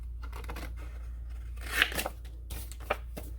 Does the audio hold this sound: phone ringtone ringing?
no